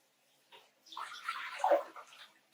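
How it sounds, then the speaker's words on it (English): Tap water running into a cooking pot for boiling spaghetti, a steady splashing rush that starts softly, swells and peaks near the end, heard alone at close range. "I fill the pot full of water"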